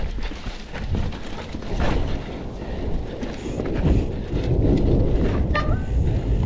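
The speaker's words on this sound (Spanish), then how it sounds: "Chica tormenta viene." Rumbling thunder from an approaching storm rolls low and continuous outdoors on a mountain bike rock-garden course, mixed with wind buffeting the microphone, with no one speaking.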